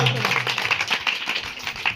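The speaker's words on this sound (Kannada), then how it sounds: "ಜೋರಾದ ಚಪ್ಪಾಳೆ" Audience applause rewarding a correct answer at a National Science Day quiz event, a moderate burst of clapping under a murmur of voices.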